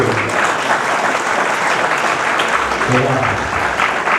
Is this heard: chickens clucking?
no